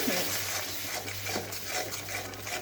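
A cashew and curd paste cooks over a very low flame for an egg curry, with soft, steady frying hiss and gentle, uneven stirring scrapes, a low hum underneath.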